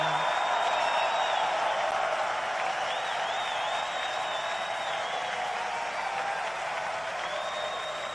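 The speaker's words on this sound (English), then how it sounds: "Trump's promise to fire SEC Chair Gary Gensler on the first day in office is the one pledge that generated the loudest applause during the former president's speech." Sustained, dense crowd applause with cheering at a Trump speech rally after a pledge to fire the SEC chair, loud and steady, washing over the whole stretch without any clear talk.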